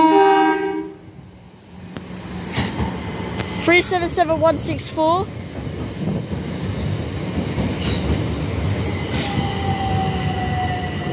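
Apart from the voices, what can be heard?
train at station platform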